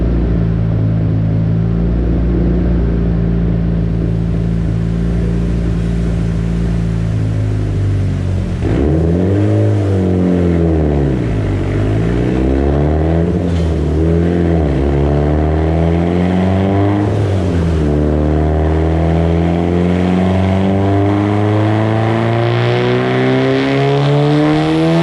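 Tuned Mitsubishi Lancer Evolution 8 with a 4G64 engine, GSC R2 cams and a BorgWarner 9174 turbo, revving hard under power: a loud, close, continuous engine drone that sweeps up and down through repeated pulls, with no talk.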